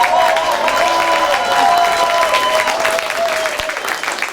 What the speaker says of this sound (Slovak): treba im zatlieskať za to, čo spravili, takže veľký potlesk.